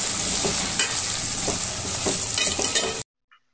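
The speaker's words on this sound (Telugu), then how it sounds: "టమాటోస్ బాగా మగ్గిపోవాలండి, అప్పటి వరకు అయితే బాగా వేయించుకోవాలి టమాటోస్ని." Tomatoes with onions frying and being stirred in a pan for mutton curry, a steady close sizzle with scraping stirs throughout, cutting off abruptly near the end.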